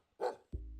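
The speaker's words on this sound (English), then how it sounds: "What if he's the one making barking noises and there is no dog?" A dog in the video game Dream Daddy gives a single short, muffled bark. A low, steady hum follows, and no voices are heard.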